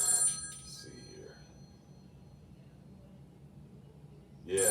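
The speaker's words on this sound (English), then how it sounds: "let's see if we can get James Walker on the phone real quick" A telephone rings on an outgoing call, with a brief ring at the start and another at the very end, separated by a quiet stretch of low line hiss.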